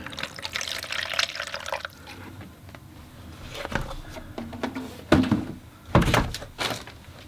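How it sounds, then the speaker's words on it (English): Fresh water poured into a watercolor painter's rinse bucket, a splashing liquid rush followed by a few louder thunks and knocks of the bucket being handled, close by and alone. "And then I just go back in with some fresh water."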